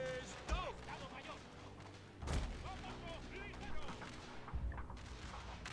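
Cannon and musket fire in a Total War battle between Mexico and France, several heavy booms and thuds scattered across the scene with crackling gunfire, under someone talking throughout.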